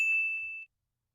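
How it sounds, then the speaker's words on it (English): A single bright bell ding rings out cleanly and decays quickly into silence, alone and fairly quiet. "get the bell ready"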